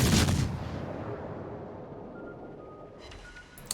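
In the World of Warships video game, a warship's guns fire armour-piercing rounds: one loud booming blast at the start decays into a long rumbling tail, followed by fainter distant crackles and a small sharp pop near the end.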